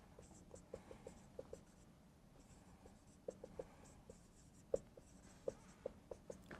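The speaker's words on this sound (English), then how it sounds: "I'll write one more step out just so you see what I'm doing" A pen writing out a calculus step on a board or paper during a lecture, heard as light scattered taps and short strokes, faint and close, with no talking over it.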